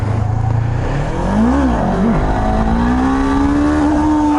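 A Honda CB500F motorcycle revs hard up through the gears for a wheelie, its engine note climbing steeply, dipping at a shift, then holding a loud, steady high-rpm drone close by.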